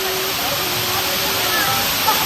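Tak Tak Falls waterfall on Siargao Island, a loud, steady rushing roar close by that fills the whole short stretch.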